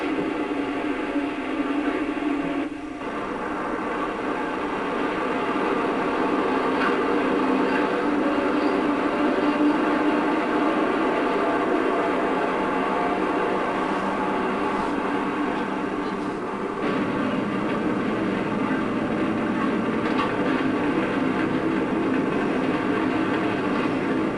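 Electric train with eight electric motors on about 700 volts, four cars running past in a steady rolling roar with faint rhythmic wheel clatter and a shift in tone partway through, no voices.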